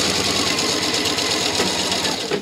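A sewing machine stitches fabric in one continuous, fast, even whir, loud and close, with no pauses or talk.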